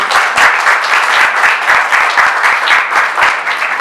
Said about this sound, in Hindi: भाई के लिए जोरदार तालियां बजाएं।